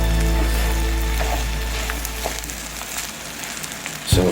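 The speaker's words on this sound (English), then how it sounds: "Now I'm going to add some liquid into it and turn the fire very low." Stir-fried corned beef sizzles steadily in a hot pan as liquid is poured in, a close crackling hiss with a low rumbling undertone and a sharper burst of spitting near the end.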